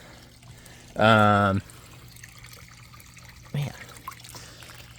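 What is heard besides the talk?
water flowing out of hot tub filter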